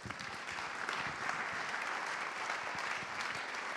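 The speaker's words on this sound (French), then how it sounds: "Vos applaudissements pour Joe Wilfried Tsonga" A crowd at an event in Le Mans applauds tennis player Jo-Wilfried Tsonga, dense continuous clapping that stays loud and even from start to finish.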